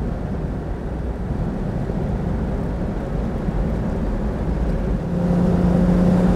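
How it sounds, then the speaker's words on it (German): A 1953 Mercedes 300 S Cabriolet runs at full speed on a country road, its engine a steady close drone under wind rush, with the pitch rising slightly near the end. "ist auch herrlich, so 300 S in voller Fahrt"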